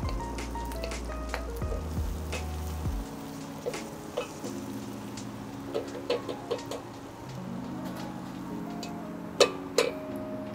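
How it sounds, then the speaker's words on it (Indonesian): Garlic sautés in melted butter in a pan, a soft steady sizzle with a low hum underneath and scattered light taps of a utensil throughout. "Kita tumis bawang putihnya hingga harum"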